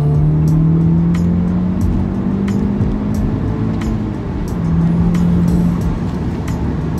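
An Audi S3 in third gear is floored from about 3,000 rpm, its engine note rising and pulling hard, loud and close from inside the car, with no talking.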